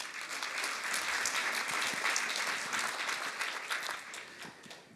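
An audience at a university student reporters' launch event in a hall claps together, a sustained crowd of applause that swells, holds and then gradually tapers off.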